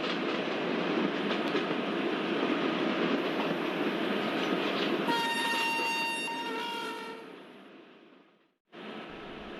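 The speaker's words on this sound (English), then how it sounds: "our train is climbing a gradient with a high speed" Kanyakumari Express climbing a gradient at high speed, a steady heavy rumble of wheels and coaches with a long horn blast partway through, then the roar fades briefly before returning.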